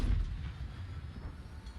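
The Hulk turret cannon in the vehicle combat game Crossout fires with a deep, booming low-end blast at the start, then a rumbling tail that fades over the following second.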